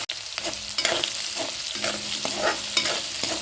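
Chickpea greens and dal sautéing in a pan, with steady sizzling broken by repeated scraping stir strokes of a spatula, close and fairly loud.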